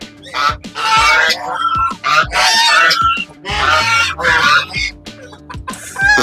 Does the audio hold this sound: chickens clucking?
yes